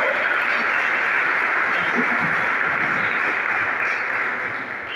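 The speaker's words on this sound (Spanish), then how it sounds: "¿Cuánto le damos un fuerte aplauso al Señor?" Loud, continuous wash of a church congregation's clapping and applause during a Spanish-language worship service, sustained evenly for several seconds and easing slightly at the end.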